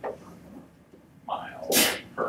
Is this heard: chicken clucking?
no